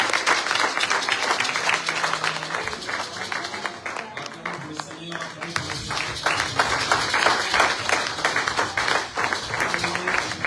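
A church congregation at a Sunday youth service applauds and acclaims the Lord with dense, sustained clapping and crowd voices, loud and continuous throughout.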